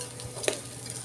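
Rice and carrot stirred in a pot for white rice, a brief scrape of a utensil over a soft sizzle, close and alone with no talking.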